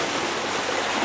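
Pool water splashing onto a person outdoors, a dense loud rush of water filling the whole short moment without speech.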